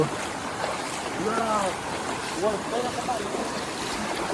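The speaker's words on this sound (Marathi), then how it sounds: "भरून वाहते या विहीर कशी वाहते मस्त पैकी कशी वाहते" A full village well overflows under strong pressure, producing a steady rushing wash of water, with faint voices briefly rising in the background.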